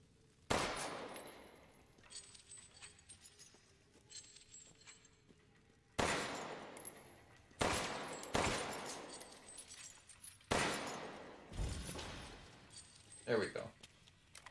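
Gunshots in the Resident Evil Village VR game inside Castle Dimitrescu: several loud, separate sharp cracks with ringing tails, spaced seconds apart, plus faint metallic clinks between them.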